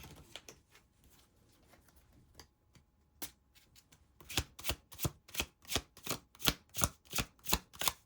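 A deck of tarot cards is shuffled, starting as faint scattered flicks and building into a loud, steady run of crisp riffling slaps in an even rhythm, close and with no voice.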